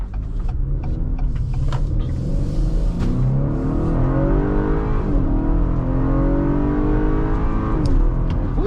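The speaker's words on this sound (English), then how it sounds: "we're gonna give it a little gas and let you guys see and hear what it feels like" A 2021 Acura RDX engine revs up under acceleration from inside the cabin, a steady rising drone with climbing harmonics and brief shift dips, loud and continuous with no talk.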